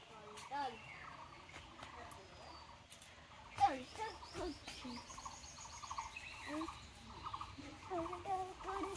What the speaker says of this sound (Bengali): আর এই যে দেখো পাখি।